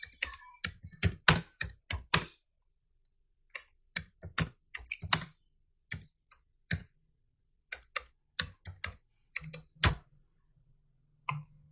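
Keys clatter on a computer keyboard in quick bursts of rapid strokes separated by short pauses, close and dry with no voices over them.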